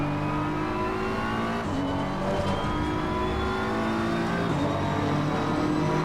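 A BMW race car engine in Assetto Corsa Competizione drones continuously at high revs, its pitch climbing steadily through the gears with brief shift dips, loud and close throughout with no talk.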